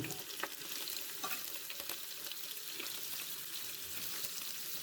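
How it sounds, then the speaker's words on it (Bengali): Prawns frying in ghee in a pan, a soft, steady sizzle with occasional light stirring clicks, fairly quiet and close, no voices. "চিংড়ি মাছ ভাজার জন্য দেড় চামচ ঘি দিলাম"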